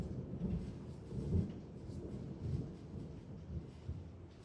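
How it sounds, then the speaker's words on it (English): Distant thunder from an arriving storm rumbles low and deep, swelling in a few rolling surges before fading, with no talking. "Now I hope I don't lose you guys because the storm is here."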